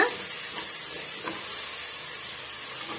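Ingredients with tomato sautéing for village-style country chicken curry, a soft continuous sizzle and hiss with a few light stirring touches, fairly faint.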